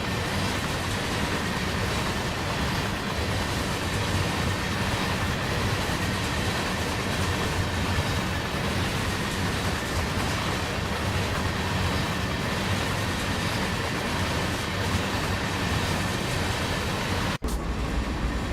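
Steady, loud rumble of a CSX C40-8W diesel locomotive hauling an eastbound coal train in Train Sim World 2, with continuous rail and wagon noise throughout and a brief dropout near the end.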